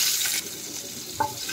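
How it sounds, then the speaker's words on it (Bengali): Black cumin seeds and two green chilies spit in hot oil as a tempering for a shol fish and potato curry, a soft, steady hiss with one brief louder crackle near the end. "দেখেন, কালো জিরে আর লঙ্কাটা ভাজা হয়ে গেছে।"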